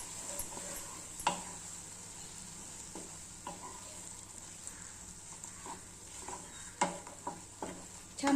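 Potato and semolina being stirred in a pan for a crispy snack, with a soft steady sizzle beneath scattered scraping strokes and a few sharper clinks of the spoon against the metal.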